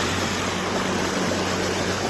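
Rainwater rushes across a road during a thunderstorm near Palitana, a loud, steady, close wash of flowing water with no voices over it.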